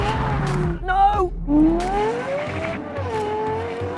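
Lexus LFA with a 4.8-litre V10 and Lexus LC500 V8 launching side by side in a drag race, tires spinning and squealing as both engines scream loudly and climb in pitch, close and intense.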